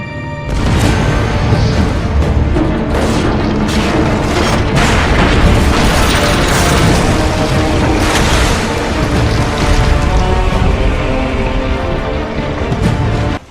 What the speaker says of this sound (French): notre fier quinquagénaire peut aller dynamiter la grosse chaîne